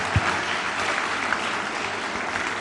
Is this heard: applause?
yes